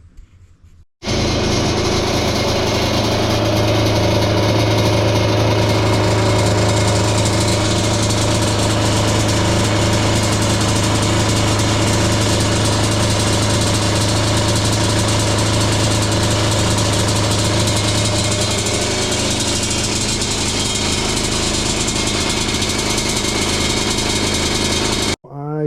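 A warmed-up Yamaha Banshee ATV engine idling, a steady, loud two-stroke drone with a constant low hum that runs unbroken for over twenty seconds and then cuts off.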